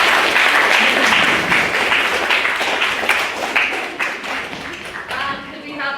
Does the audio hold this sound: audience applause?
yes